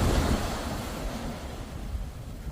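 Ocean surf breaking on a seashore, a steady broad wash of waves with wind buffeting the microphone, loud and continuous with no voices.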